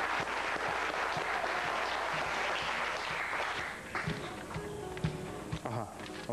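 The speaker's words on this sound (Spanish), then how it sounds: "Un aplauso para Ricardo." A crowd applauds with sustained, dense clapping that thins out toward the end, with a few scattered louder claps and faint voices underneath.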